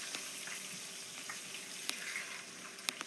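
Arborio rice is poured into a sizzling pan for a risotto with calamari, shrimp and clams, giving a steady close frying hiss with a few sharp clicks and crackles scattered through it.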